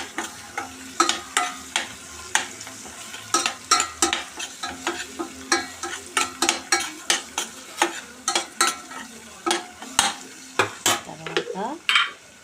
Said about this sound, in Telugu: ఇది ఆనియన్ ఫ్రై అయ్యాక అల్లం, పసుపు వేసుకొని ఫ్రై చేయాలి.